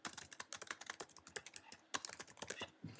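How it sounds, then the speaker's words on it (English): Quick, steady keystrokes on a computer keyboard, heard close but quietly, as a short phrase is typed. "I'll just type please add me"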